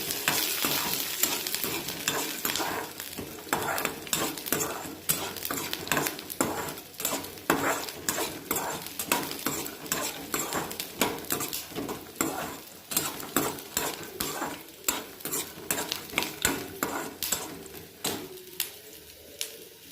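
Peanuts and garlic are stir-fried in a pan, a soft sizzle running under a steady stream of quick scraping and stirring strokes from a utensil against the metal, close and continuous with no voices.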